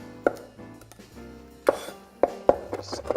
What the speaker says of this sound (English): Just chop it up really nice and thin.